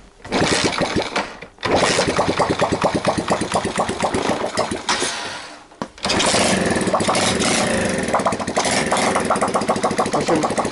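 A moped engine runs loudly and close by with a steady rapid putter, dipping briefly twice before picking straight back up. No one speaks.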